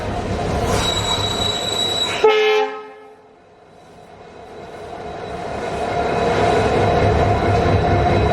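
A long passenger train on an Indian railway journey from Jodhpur to Ajmer rumbles loudly along the rails with a sustained high wheel squeal, which cuts off abruptly, drops to a lull, then builds back into a steady roar.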